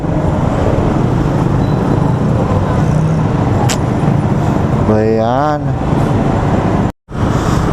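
Road traffic rumbles loudly and continuously close by, with a vehicle horn sounding briefly near the middle and someone speaking over the noise.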